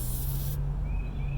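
A single short hiss of Liquid Wrench aerosol penetrating oil sprayed around the wheel hub of a 2015 Town and Country during a brake job, cutting off abruptly and leaving a low steady hum.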